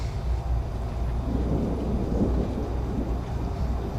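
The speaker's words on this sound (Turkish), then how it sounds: "şu anda yağmur başladı hafiften" Soft, steady patter of light rain with a low rumbling undertone, continuous and fairly quiet throughout.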